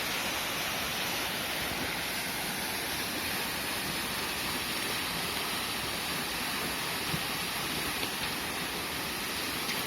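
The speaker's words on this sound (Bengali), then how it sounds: "দূরে ওই পাহাড়ের উঁচু থেকে ঝর্ণাটা নিচের দিকে বয়ে আসছে।" Steady rushing roar of a mountain waterfall spilling from high slopes along the Everest trail near Namche Bazar, a constant broadband wash of water with faint scattered ticks and no talking.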